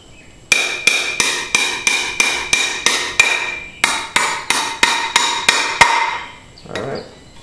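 A 4-in-1 multi-tool used as a hammer drives nails with a steady run of about sixteen sharp, ringing metallic strikes. A short pause splits the series, and a faint scrape follows at the end.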